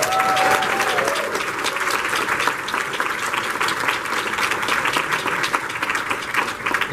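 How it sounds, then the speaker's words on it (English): Sustained applause from a crowd at a furry convention's opening ceremony, dense steady clapping that fills the room and carries on without a break. "Give them a round of applause."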